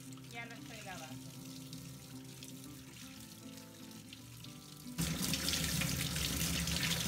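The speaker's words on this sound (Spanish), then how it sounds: "Estoy lavando el perejil, simplemente le voy a echar un poco de agua y ahí ya lo estoy lavando." Tap water runs steadily over fresh parsley being washed in a sink, a soft continuous splash that swells louder and fuller toward the end.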